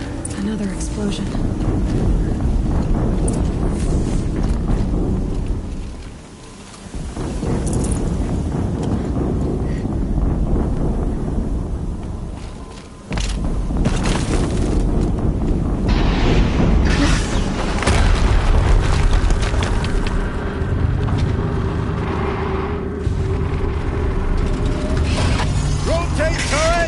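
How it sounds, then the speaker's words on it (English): Explosions boom in the video game Horizon Zero Dawn, heavy rumbling blasts filling the scene, with two brief dips between bursts and mechanical game sounds underneath. "Another explosion."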